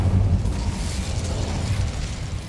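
An Incendio fire spell in the Hogwarts Legacy video game bursts with a loud, dense, roaring blast that fills the brief moment without a pause.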